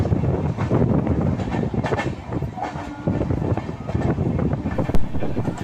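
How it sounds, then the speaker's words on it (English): A goods train passing close by, a steady heavy rumble of wagons with wind buffeting the microphone and a brief sharp knock near the end. "So this is goods train we see now."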